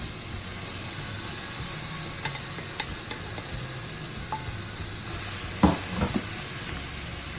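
Rice tossed into a hot wok for Indonesian nasi goreng, with a steady sizzle and hiss of frying and a few scraping stirs and clatters near the end.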